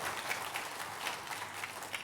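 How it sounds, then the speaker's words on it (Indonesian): A church congregation applauds during a worship service, a soft, continuous patter of many hands clapping heard from a distance for a couple of seconds. "Tepuk tangannya, ayo yang paling meriah buat Tuhan kita"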